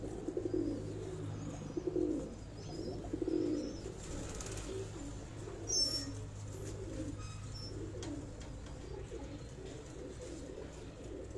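Pigeons coo softly and repeatedly from a rooftop loft, low murmuring calls in uneven clusters under a steady background hum, with a few faint chirps.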